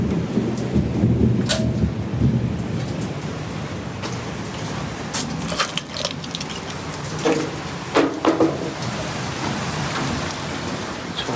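Steady monsoon rain in Kasauli falling on surfaces, a dense continuous hiss with scattered nearby drips and patters and a low rumble beneath, with no talking.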